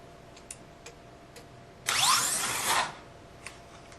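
A short, high whining rush as a small electric drag slot car zips down a drag strip for about a second, surrounded by faint ticks and clicks.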